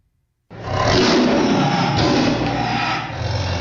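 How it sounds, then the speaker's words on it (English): A tiger lets out a loud, deep, sustained roar that starts abruptly and holds for about three seconds before easing slightly, with no voices. "A tiger's roar is very loud."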